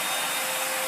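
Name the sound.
vacuum cleaner running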